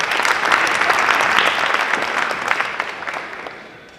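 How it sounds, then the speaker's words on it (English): An audience at a youth entrepreneurship panel conference in Baltimore applauds a panelist, a full, dense round of clapping that holds steady and then tapers off toward the end. "We give you a round of applause."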